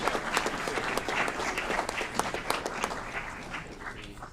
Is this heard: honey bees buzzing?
no